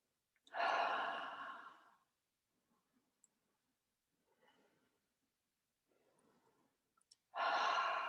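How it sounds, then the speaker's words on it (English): Two loud, deep breaths during a guided breathwork session, each drawn in through the nose and let out through the mouth, a long exhale near the start and another at the end, with soft faint breathing between and no talking. "taking some deep, full breaths into your body, in through your nose, out through your mouth"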